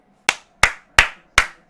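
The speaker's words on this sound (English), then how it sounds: "All you can do is applaud." Four slow, evenly spaced hand claps, sharp and close, ring out alone while a Champions League match between Barcelona and Bayern Munich is being watched.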